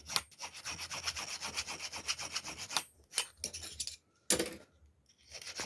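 A homemade crochet hook is thinned with a file, giving repeated close, rasping scraping strokes in a steady rhythm, then a pause and a few more bursts of filing.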